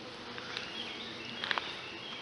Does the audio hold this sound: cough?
no